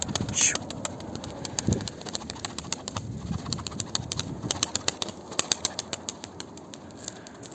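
Pigeons coo softly amid rustling and fluttering, with scattered taps and background noise throughout.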